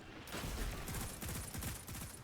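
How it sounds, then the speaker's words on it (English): Rapid gunfire from a shotgun in the video game Destiny, dense continuous bursts of booming shots filling the whole moment, loud and close. "I shot my shotgun"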